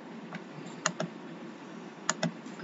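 Typing on a computer keyboard, with a handful of sharp, close key clicks in two small clusters separated by a pause, over quiet background hiss.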